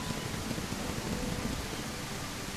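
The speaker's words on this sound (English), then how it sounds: "Is the rain really loud for you guys, or is the volume okay?" Rain in the video game Windstorm hisses as a steady, fairly loud, unbroken wash of noise with no talk over it.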